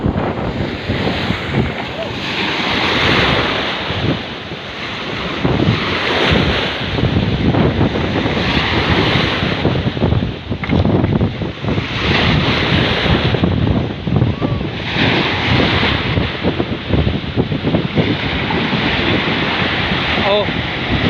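Loud sea waves surge and crash repeatedly against a small wooden fishing boat off the coast near Bacolod, heavy wind buffeting throughout, the rolling swells rising and falling in long uneven bursts.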